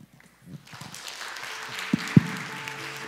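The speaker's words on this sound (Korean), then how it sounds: "박수해 주시기 바랍니다" Audience applause at a forum on a comprehensive anti-discrimination law, a soft, diffuse patter of clapping that swells gently, with a couple of sharper knocks standing out near the end.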